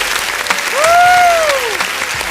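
A studio audience applauds for a rapper on a radio show, a short burst of clapping with a host's rising, drawn-out whoop riding over it.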